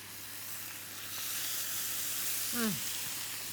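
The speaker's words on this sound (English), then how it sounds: "In the pan, and you should hear a sizzle" Steady sizzling hiss of steak frying in a hot pan, a broad crackling wash that swells slightly, with a brief voice-like sound in the middle.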